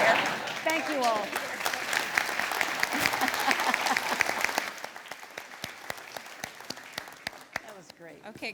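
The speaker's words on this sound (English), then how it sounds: "Let's give them just one more round of applause" An audience at a club celebration honoring two CEOs breaks into loud applause that peaks early, then thins into scattered individual claps as it fades, with voices talking over it.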